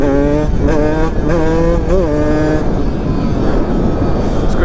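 A Beta 125 motorcycle practices hard wheelies. The engine revs up in several sharp rising bursts with clear tonal whine, then settles into a rougher, steady running sound, loud and close.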